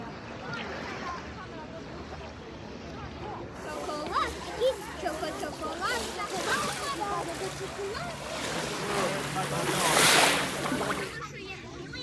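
Sea waves wash steadily along the seaside in Rijeka, Croatia, as a continuous broad hiss with people talking over it throughout.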